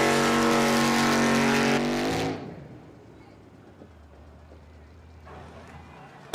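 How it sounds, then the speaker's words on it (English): A drag race car at an ASBR pro racing event in Yakima, Washington: a loud, buzzing engine roar that suddenly drops to a low, rumbling idle as the car creeps toward the starting line, with a commentator talking. "Let's see what they do here as they idle on up to the Ziply Fiber starting line."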